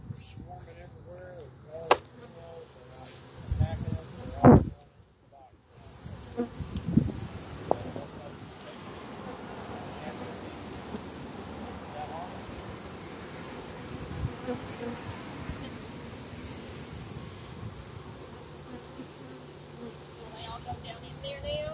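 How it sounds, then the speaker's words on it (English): A honey bee swarm buzzing around a small nucleus hive outdoors, a steady dense drone with individual bees whizzing close past the microphone and a few handling knocks early on. "They're swarming everywhere."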